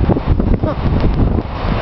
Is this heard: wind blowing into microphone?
yes